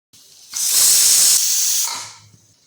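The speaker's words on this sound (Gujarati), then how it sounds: "કુકરનું ઢાંકણ બંધ કરીને આપણે અહીંયા બે વિસલ કરી લઈશું" A pressure cooker vents a burst of loud steam, a hissing whistle that swells, holds for over a second, then fades away.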